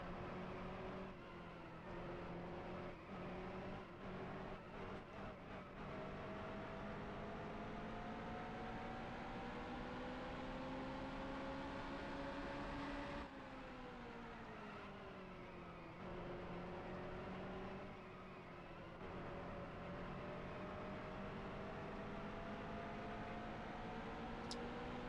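A stock car runs a qualifying lap in the NASCAR Heat Evolution racing game, a continuous engine drone whose pitch slowly rises and falls with shifts and throttle changes, steady and moderately loud with no talking.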